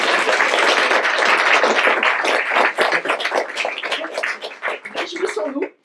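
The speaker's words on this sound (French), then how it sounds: "Oui, on peut applaudir." Audience applause at the launch of a new book publisher, Le Robert Québec, full and dense at first, then thinning into scattered claps with a voice surfacing as it dies away.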